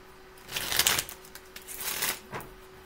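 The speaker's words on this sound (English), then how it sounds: "One more shuffle, please" A deck of cards shuffled during a card reading: a few quick, soft riffling bursts close by, with short pauses between them and no talk.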